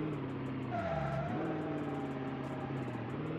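Twin-turbo drag car engine in BeamNG Drive, a steady tonal drone that dips briefly in pitch then climbs and holds as the throttle is feathered, fairly close and alone.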